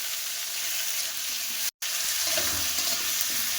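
A paste of ground poppy seed and ginger fries in a hot pan with a steady, close sizzling hiss that briefly cuts out, then carries on.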